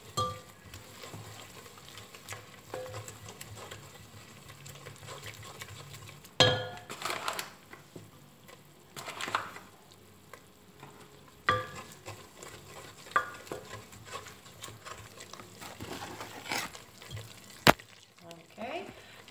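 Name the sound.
stirring flour and margarine together in a pan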